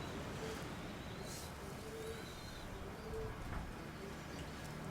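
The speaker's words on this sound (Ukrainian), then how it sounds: "Ось такий сіренький голубок." A grey pigeon in a breeding loft coos softly and repeatedly under a steady, noisy background, the low calls faint and partly masked.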